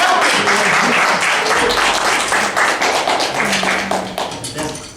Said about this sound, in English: Please give a very warm round of applause for Adam for not helping.